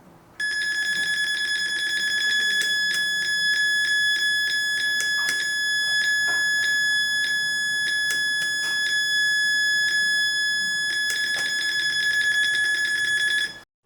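Steady, high-pitched electronic synth tone from a micro:bit speaker, held for over ten seconds with faint clicks and tapping underneath, loud and close with no talk.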